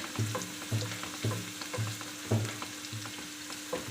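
Garlic and onion fry in a pan for malai chana with a soft continuous sizzle, while a spatula scrapes rhythmically about twice a second, close but fairly quiet, with no voices.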